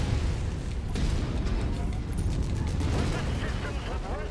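A mech blowing up in the MechWarrior 5 Mercenaries video game, with a long rolling, crackling boom and scattered bursts continuing throughout, loud and dense, with no voices over it.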